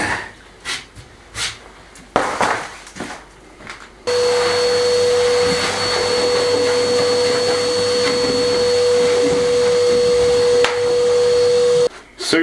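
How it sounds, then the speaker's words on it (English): A vacuum cleaner runs in a house under restoration with a loud, steady whine and roar for several seconds, after a few short scraping or rustling noises; it cuts off near the end. "he's scared of the vacuum cleaner, he doesn't like it at all"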